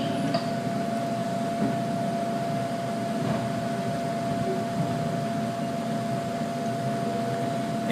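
A Sydney Trains K-set train pulling in at Hornsby station gives a steady interior rumble with a constant electrical whine, heard alone and unchanging for about eight seconds.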